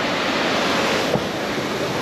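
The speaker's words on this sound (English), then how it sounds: "Down by this falls over here," Steady broadband rush of water from a small falls by a lake, continuous and fairly close with slight wind buffeting, no voices.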